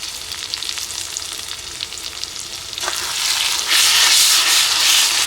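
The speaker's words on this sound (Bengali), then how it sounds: "এবার দিয়ে দেবো এর মধ্যে বাটা মশলা" Spice paste of ground ginger, garlic, cumin, coriander and dried chilli with tomato, turmeric and salt frying in oil for a rooster curry in a village kitchen: a steady hissing sizzle that swells noticeably louder and brighter partway through, with no talk.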